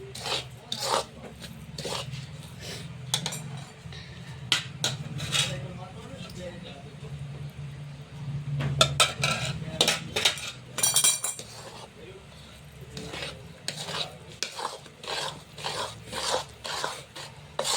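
A spoon stirs mumthal, a sweet made with desi ghee, in a pot, giving irregular metallic clinks and scrapes that are fairly faint, with a person talking over much of it.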